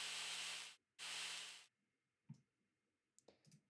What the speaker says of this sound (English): I wanted to do something that sounds like a steam or similar white noise.